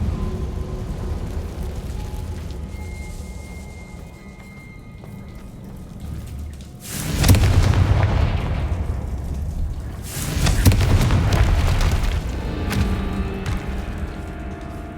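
Confringo fire spell blasts in the Hogwarts Legacy video game, two loud booming bursts a few seconds apart over a low game ambience.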